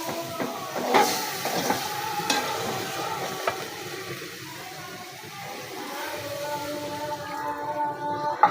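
Small fish being stir-fried in a pan with already-cooked onion and chili, giving a quiet, steady sizzle broken by occasional scrapes and clinks of a utensil, close up and soft, with no voices.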